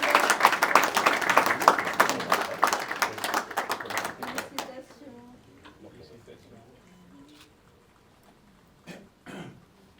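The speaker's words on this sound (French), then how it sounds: "Allez, on va l'applaudir fort, s'il vous plaît." Audience applause for a graduate at a graduation ceremony, loud dense clapping for about four seconds that fades into scattered claps and low room noise, with a brief burst of claps near the end.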